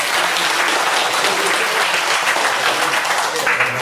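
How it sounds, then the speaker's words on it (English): Studio audience applauding during a talk-show interview, a steady dense wash of many hands clapping at close range for the whole stretch, with no speech over it. "I want to clap for you."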